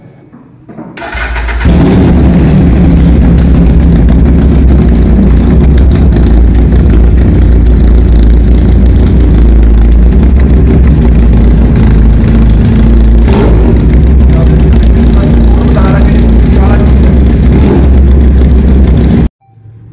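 A Ducati-replica 400cc heavy motorbike with an EFI engine fires up after a brief quiet moment, then holds a loud, steady, close idle with slight revving swells through the rest of the recording, with no talking.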